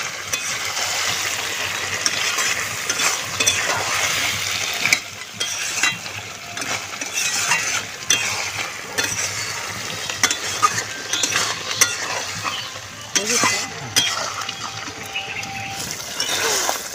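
Native duck meat with chui jhal is stirred without pause in a pan of its own rendered fat, giving a steady frying sizzle broken by scraping and clinking from the spoon.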